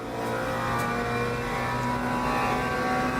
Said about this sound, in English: plenty of hypercars coming